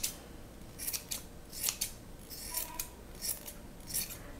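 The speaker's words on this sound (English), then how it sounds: "as you're trimming your pom-pom" Scissors snipping at a yarn pom-pom, a series of soft, close, crisp cuts in uneven rhythm, about a dozen quiet snips over a faint background.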